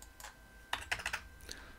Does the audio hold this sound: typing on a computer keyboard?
yes